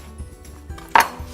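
Knife chopping an organic apple, peel left on, into bite-sized pieces on a cutting board: a few soft dull taps spaced apart, with one sharper, louder chop near the end, close and alone.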